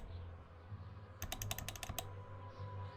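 Computer keys clack in a quick burst of about eight presses over a low background hum, close and crisp, while playing Neverwinter Nights: Hordes of the Underdark.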